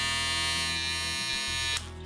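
A Remington PF7200 electric shaver runs with a steady, loud buzzing drone close to the microphone, then cuts out abruptly near the end, leaving a quieter hum.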